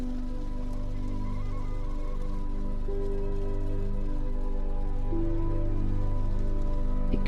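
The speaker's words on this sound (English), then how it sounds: "Only the sound of the rain at night, as you lay in your bed, can be so comforting." Steady rain falling at night, a dense constant patter that swells slightly louder toward the end, with a faint low hum and tonal drone mixed underneath.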